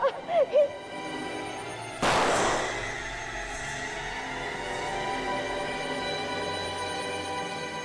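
A single warning gunshot in a crime drama scene, one loud, sharp blast with a long ringing decay, following a brief burst of voice.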